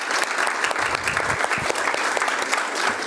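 An audience at a school Board of Education business meeting breaks into loud, sustained applause, dense hand-clapping filling the room for a few seconds with a little murmuring beneath.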